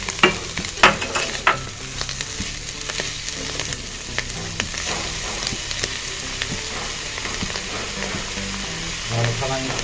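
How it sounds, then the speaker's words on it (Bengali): Mushrooms frying in a pan for a chicken mushroom soup, a continuous close sizzle with repeated spatula scrapes and clinks throughout. "এরপরে আমি মাশরুমগুলো হালকা ভেজে নিব।"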